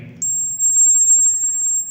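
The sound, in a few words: buzzer beeping as toy car horn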